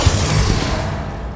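A Confringo fire-blast spell from the video game Hogwarts Legacy bursts in a short, loud, rushing crackle that thins out within about a second, with no talk.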